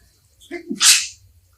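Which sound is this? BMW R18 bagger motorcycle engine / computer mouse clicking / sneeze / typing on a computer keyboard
sneeze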